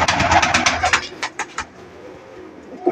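Racing pigeons from a winning Punnu-line loft coo in a rapid run of soft, pulsing calls close by, thinning into a few separate coos and then a quieter pause, with no talk.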